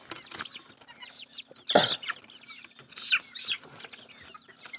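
Broiler chickens drinking medicated water, giving short scattered clucks and a couple of sharper squawky calls in a quiet pen, close and intermittent.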